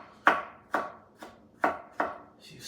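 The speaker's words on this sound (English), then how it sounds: "go to town chopping. Oh, those onions are still getting to me" Knife chopping onions on a cutting board, five or six crisp, separate thunks at a slow, uneven pace, close and clear against a quiet room.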